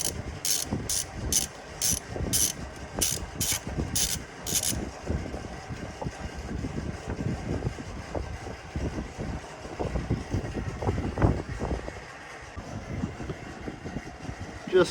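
Valve cover bolts come off an Allis-Chalmers 7045 tractor with a ratchet, a run of quick rhythmic clicking bursts at first, followed by irregular metallic clanks and handling knocks close by.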